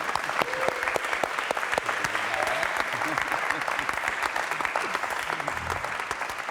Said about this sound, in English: Applause for Eric!